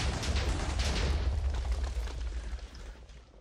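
A loud explosion in the video game Minecraft, Modern Skyblock modpack, sets off plant matter: a heavy rumbling boom that holds for a few seconds and then fades away, with no voices.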